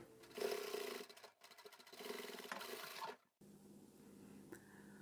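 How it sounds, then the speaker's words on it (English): A sewing machine runs in steady bursts while top stitching through two layers of fabric on a plain zippered pouch, with a brief pause near the middle before the motor hums on more quietly. "top stitch both layers of this fabric on the outside here all the way along"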